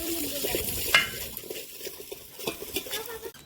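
Chopped onion and garlic sizzle and fry in a pan while being stirred, with soft scraping and clinks of a utensil against the pan throughout.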